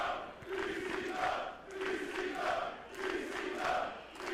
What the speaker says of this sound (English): The chant echoing through the halls and off the walls in our brand new venue.